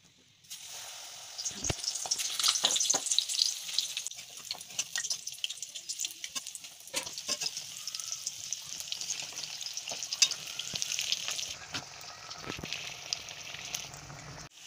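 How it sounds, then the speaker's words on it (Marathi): Batter-dipped chillies for Jodhpuri mirchi vada frying in hot oil, a steady close sizzle and crackle with occasional sharper pops throughout, no talking. "आता एक एक मिरची बॅटरमध्ये अशी बुडवून घ्यायची व्यवस्थित आणि तेलामध्ये सोडायची"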